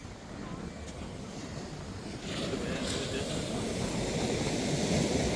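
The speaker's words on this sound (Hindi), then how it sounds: "ये देखिए समुद्र की लहरें, विशाल" Sea waves at evening high tide on a wide Arabian Sea beach at Poovar, Kerala, form a continuous broad rushing roar that swells louder partway through, mixed with gusty wind noise against the microphone.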